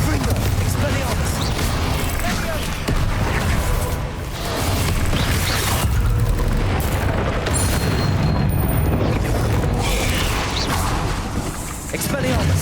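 Bombarda and Confringo spell blasts in the Hogwarts Legacy video game, a dense barrage of booming explosions and crashing impacts going on continuously, loud and close, with a voice calling out over the noise.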